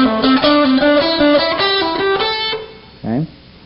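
Guitar notes played in a quick pull-off pattern that climbs across the strings of a scale, close and clear, then stop; a short spoken phrase follows.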